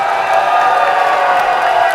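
A wrestling crowd in Victoria, British Columbia roars steadily throughout, a dense wash of cheering and applause with no clear breaks, loud and continuous.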